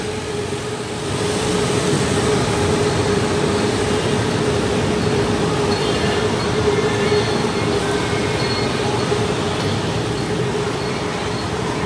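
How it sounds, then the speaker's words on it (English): An elevated sky train in Bangkok rumbles past steadily with a loud, continuous roar and a faint high squeal of wheels, sustained throughout with no pauses. "There's our sky train."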